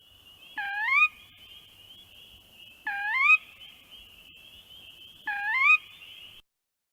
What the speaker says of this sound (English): they also do this sound called a purr-weep